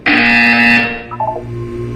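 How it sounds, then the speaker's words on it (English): A loud, harsh electronic buzzer in the video game Portal 2 blares for under a second, then gives way to softer electronic tones. "You will hear a buzzer."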